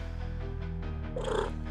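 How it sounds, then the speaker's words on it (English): A cat purrs softly in an audio drama of Poe's The Black Cat, a low rumble under a sustained musical drone, ending in a brief brighter swell. "I discovered that this cat, like Pluto, had only one eye"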